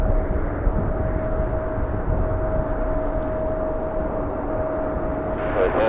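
A Japan Airlines Airbus A350 lands at Los Angeles International Airport in a crosswind, a steady distant jet rumble with a faint engine tone running throughout, and a brief burst of other noise near the end.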